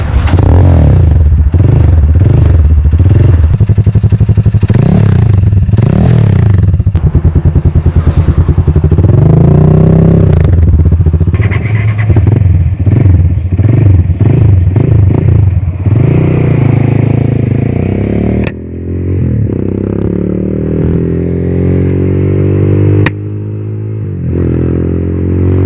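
A motorcycle with an aftermarket exhaust, loud and close, revving in repeated sharp bursts with rising and falling pitch, then pulling away in a sustained, droning ride with shifts between gears.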